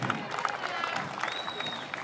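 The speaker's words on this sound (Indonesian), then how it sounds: "Kita beri tepuk tangan dulu untuk Pak Anin ini." A seated audience at a tourism-related gathering in Alor Regency, Indonesia, applauds briefly, a soft and fairly distant patter of clapping that stays even throughout.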